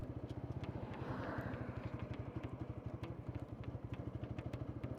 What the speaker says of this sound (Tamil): தேர்ட் கியர் ஷிஃப்ட் பண்ணி பார்ப்போம்.